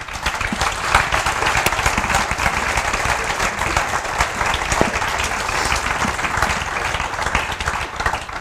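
Audience at a panel discussion on money breaks into dense, sustained applause, a steady wash of many hands clapping with no voices over it.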